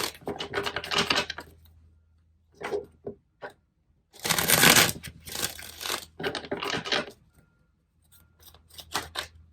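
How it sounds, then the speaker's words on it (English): Tarot cards being shuffled by hand, crisp papery riffles and flicks in several separate bursts with short quiet gaps between them, close and fairly soft. "Three of Wands flipping over as I'm shuffling."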